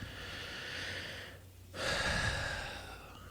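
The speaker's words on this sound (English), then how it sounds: "Nice big deep breath." A big, deep breath taken during a tapping exercise: a long, steady breathy rush, a brief pause, then a louder, fuller exhale, heard close and alone with no talk.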